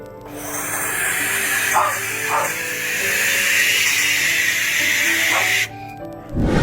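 A barn owl (Tyto alba) produces a long, loud, breathy hiss that holds steadily for several seconds, close and harsh, before cutting off abruptly.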